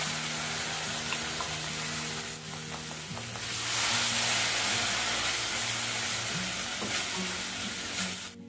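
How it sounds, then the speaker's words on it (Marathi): Cashew and tomato paste sautéed with onions and masala in a pan, a steady close sizzle with scraping stirs throughout, growing louder and hissier midway, no talking. "याला आपल्याला 3 ते 4 मिनिटं असंच परतून घ्यायचं आहे."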